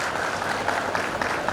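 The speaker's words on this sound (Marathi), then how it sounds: "एकदा जोरदार त्यांच्यासाठी टाळ्या." School audience applauding the institution's first woman principal, a short burst of dense, steady clapping filling the whole moment.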